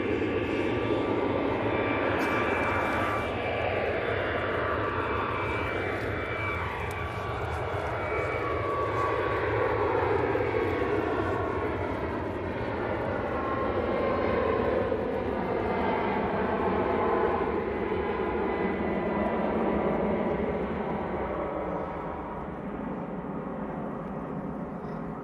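Departing Manchester Airport for Bogota, a Boeing 787-10 airliner sends out a long, steady jet engine roar with shifting sweeping tones, fading slightly toward the end.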